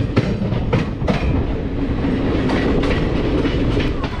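The West Coast Express rolls into Erode Junction in the dark, its wheels beating a steady, loud clickety-clack with sharp rhythmic rail joint knocks throughout, heard from inside the carriage.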